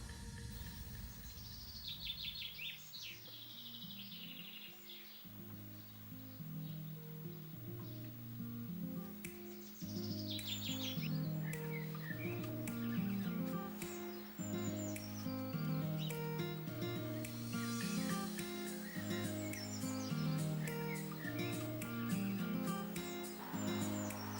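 Garden birds sing and chirp in scattered bright phrases over a steady, repeating low musical background, fairly faint throughout.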